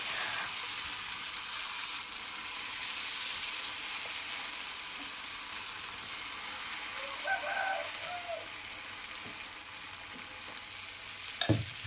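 Curd dosa batter cooks on a hot pan with a steady, even sizzle throughout, joined near the end by a few faint scrapes and clinks of a utensil, with no voices.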